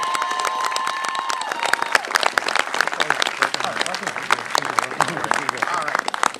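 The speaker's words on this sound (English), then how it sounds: "give a warm round of applause and a welcome to Ward 5's own Tyree" Applause for Ward 5's Tyree Wood at the grand opening of the Fort Lincoln Lowe's store, loud crisp clapping with some cheering from a gathered crowd outdoors on a chilly day, sustained throughout.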